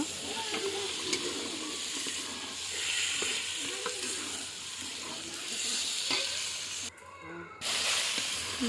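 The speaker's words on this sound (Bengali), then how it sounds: "মাংসটা ভালো করে কষিয়ে নিচ্ছি" Poultry meat sizzles and hisses steadily in a pan with tomato while being stirred, bursts of scraping under the frying, with a brief pause near the end.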